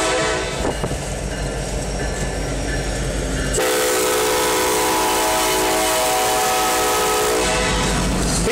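BNSF 9023 freight train rolls loudly through Effingham, Illinois, a heavy continuous rumble with a sustained horn blast partway through and steady wheel noise close by.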